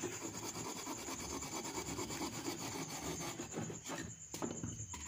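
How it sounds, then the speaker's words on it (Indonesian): A hand saw or coping saw cuts through wood while a toy rifle is built for a carnival, producing a steady, close, continuous rasping with brief dips near the end and no talking. "Kita menggunakan gergaji tangan ya, ataupun gergaji gobed."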